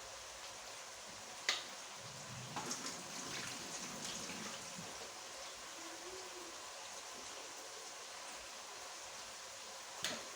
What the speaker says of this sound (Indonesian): Ya, kita buang airnya seperti ini, sudah tidak ada airnya.